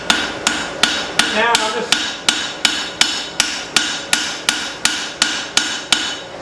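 Hammer forging a spring steel cleaver, with about a dozen sharp metallic blows landing in an even, quick rhythm close up, each ringing briefly; someone speaks a few words between strikes.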